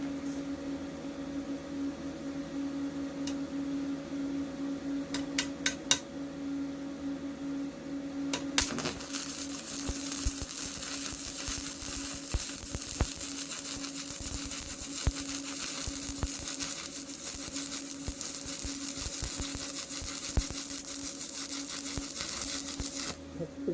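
Arc welding with a Yeswelder MIG-205DS at 120 amps, a continuous crackling, sizzling buzz over a steady electrical hum, with a few brief clicks before the arc strikes, close and moderately loud.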